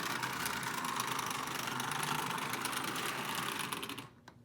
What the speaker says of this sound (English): this engine should go in reverse if you switch the toggle to the other position here